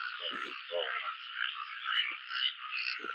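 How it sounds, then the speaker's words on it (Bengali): A brown garu frog croaks in a continuous, close, buzzing drone that swells and dips slightly, with brief low voice fragments in the background. "এই দেখো ব্যাং এটা হলো পুরো মাটিয়া কালারের ব্যাং এটা আমরা লোকাল ভাষায় গারু ব্যাং কই"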